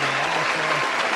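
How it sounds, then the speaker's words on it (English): A brief burst of steady crowd applause with a low tonal hum running underneath, loud and close, lasting about a second. "Let's give that man a round of applause."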